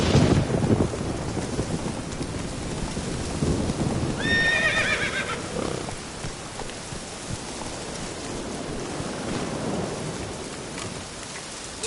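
A horse whinnies in The Witcher 3 amid rain and rumbling thunder, with hooves clip-clopping underneath; the neigh is one clear, wavering cry in the middle, set against a steady stormy wash.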